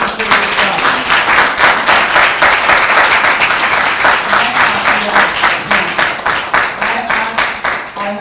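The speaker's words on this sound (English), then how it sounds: "give my colleagues a round of applause" Loud, close applause from an audience at a Black History Month celebration and annual meeting, dense clapping with a few voices underneath, holding steady throughout.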